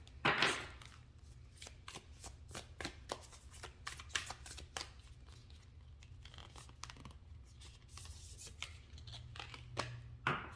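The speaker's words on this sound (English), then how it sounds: "So let's pull an oracle card for you." Oracle cards shuffled and drawn during a pick-a-pile love reading, giving repeated crisp riffling snaps and slides across the whole stretch, close and fairly quiet with no talking.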